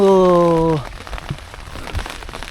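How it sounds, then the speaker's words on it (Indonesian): Heavy rain pours down on Fansipan mountain in Sapa, Vietnam, a dense, loud patter that follows a sustained tone cutting off in the opening second. "Ya, hujan makin kenceng ini."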